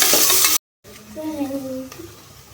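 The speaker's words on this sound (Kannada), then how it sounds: "ಉಳ್ಳಾಗಡ್ಡೆ ಹಾಕಿದ್ರೆ ಚೆನ್ನಾಗಿ ಗೋಲ್ಡನ್ ಫ್ರೈ ಆಗೋವರೆಗೂ ಫ್ರೈ ಮಾಡ್ಕೊಳ್ರಿ" Onions fry in hot oil until golden for kuska rice, giving a bright, loud sizzle that cuts out abruptly, then returns quieter with a brief tonal hum over the crackle.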